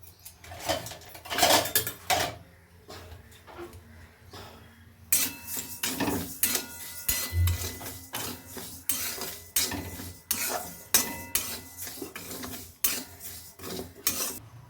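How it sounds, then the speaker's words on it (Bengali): Mung dal for khichuri is stirred as it dry-roasts in a pan, making brisk, repeated scraping and rattling strokes with a metal utensil, loud and close, without any speech. "খিচুড়ির জন্য আমি মুগের ডালটা শুকনো খোলায় ভেজে নেব"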